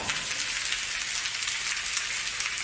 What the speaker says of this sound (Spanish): Escuchen, la lluvia ya empieza